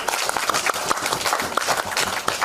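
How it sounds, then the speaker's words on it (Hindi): Audience applause for Bappi Lahiri at a press conference, a dense burst of many hands clapping, fairly close and steady throughout. "जोरदार ताली एक बार और बपीता के लिए"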